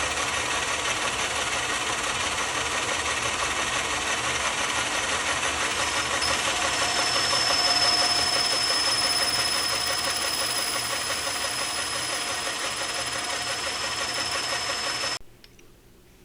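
A metal lathe cuts aluminum while its carriage and lead screw turn, giving a steady, dense mechanical whir with a faint high whine that runs unbroken for about fifteen seconds before cutting off abruptly.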